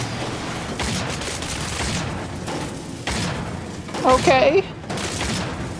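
Bursts of SMG fire from mole miners in the Cryostasis video game, several rapid volleys under a voice, with a brief louder burst near the end.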